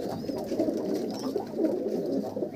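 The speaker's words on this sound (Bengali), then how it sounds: "দেখো এখন ডিম বাচ্চায় বসে আছে পায়রা।" Andhra pigeons coo in a breeding loft where birds sit on eggs, soft repeated throaty calls from several birds overlapping close by in a continuous murmur.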